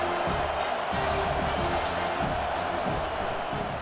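Stadium crowd noise from the video game College Football 25, Oklahoma Sooners vs USC Trojans, a steady loud roar of cheering fans that swells slightly on a big third down, with no talk over it.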